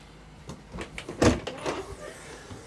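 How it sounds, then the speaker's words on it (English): The double rear hatch doors of an Encore RV ROG 12RK adventure trailer swing open with a few knocks, clunks and latch sounds, close and moderately loud, amid some background noise. "Going into our rear hatch, it's just kind of a double door system here. These are just gonna open."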